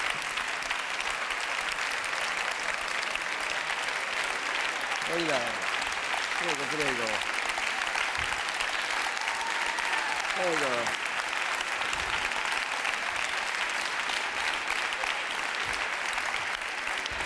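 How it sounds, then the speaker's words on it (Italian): A studio audience on an Italian Canale 5 Sunday TV show applauds steadily and at length, a dense, even wash of clapping, while someone speaks briefly over it. "volevamo solo che lei avesse modo di prendersi gli applausi di tutto il nostro pubblico"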